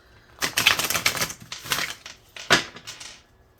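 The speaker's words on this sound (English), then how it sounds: "Let me shuffle this." A deck of tarot cards is shuffled up close in quick papery bursts of riffling and slapping, with a short pause and then one more sharp flurry.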